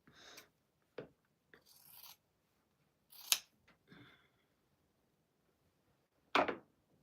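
Scissors make several separate snips and rustling cuts through material, close and fairly quiet, spaced out with silent pauses between bursts and no talking.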